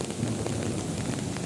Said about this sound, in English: Just raining and raining.